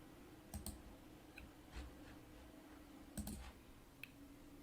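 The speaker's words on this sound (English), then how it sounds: "I'm going to click submit." Mouse clicks on a computer submit button, a few sharp isolated clicks spread across a quiet room background with a low steady hum.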